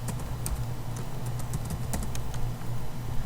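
Code being typed on a computer keyboard produces rapid light key clicks, close and steady, over a constant low hum, with no voices.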